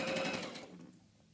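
Sewing machine stitching through fabric and interfacing during a sewing class, a short loud burst of rapid whirring stitches that stops abruptly partway through, leaving quiet room tone.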